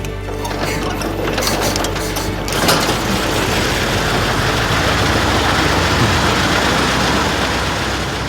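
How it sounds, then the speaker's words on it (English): A 1908 Laurin & Klement BSC car engine, started by swinging a crank handle, catches and settles into a loud, steady, rattling idle. "even 1908 Laurin Clement BSC would start"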